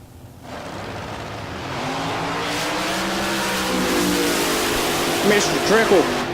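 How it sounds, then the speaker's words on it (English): A fast dragster in bracket racing at the Texas Motorplex roars down the drag strip, a loud rising engine howl building over several seconds with a sharp tonal whine near the end, under an announcer's voice. "That's a fast dragster right there, 441."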